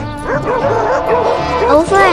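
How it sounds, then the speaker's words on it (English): A blind dog barks and yips at neighborhood dogs, a close, loud run of high whining barks and yelps that rise and fall continuously. "a blind dog straight up humiliates the other neighborhood dogs."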